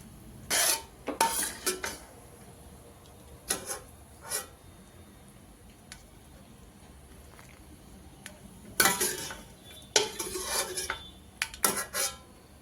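Dried fruits that have been sautéed are scooped out of a pan while making carrot halwa, giving several bursts of clinking utensil-on-pan scrapes and clatter at close range, with quiet gaps between them and no talking.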